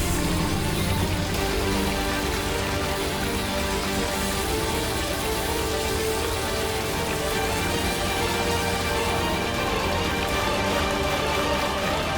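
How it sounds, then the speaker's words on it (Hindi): Steady rain pours down in a dense, even hiss that runs unbroken at full strength from start to finish, with no voices over it. "ये इंद्र देवता ने बारिश की है या अपना पसीना पहुंच के छोड़ दिया?"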